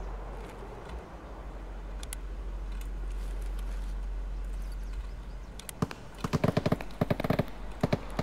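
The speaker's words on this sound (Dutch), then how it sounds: "Oh, er wordt geschoten." Bursts of gunfire from the video game Escape from Tarkov, a few scattered shots early, then a dense cluster of rapid, sharp reports toward the end over a steady low hum.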